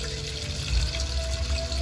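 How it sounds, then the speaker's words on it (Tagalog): Water is poured into a pot to boil an engine thermostat, a steady close splashing trickle that swells briefly midway, with no talking. "Lagyan lang natin ng tubig"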